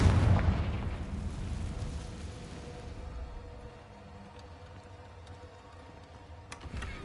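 A Confringo blasting spell explosion in the Hogwarts Legacy video game, a deep boom at the start fading into a long low rumble, followed by faint clicks and a small pop near the end.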